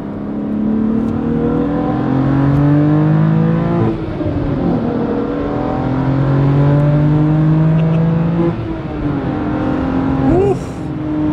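A tuned BMW M3 F80 with its S55 engine accelerates hard, loud and close, its pitch climbing through the revs before dipping for gear shifts near the fourth and ninth seconds and then pulling again.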